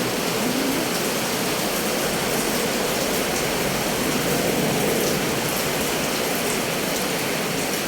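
Steady, dense rain hissing continuously, loud and close, with no voices.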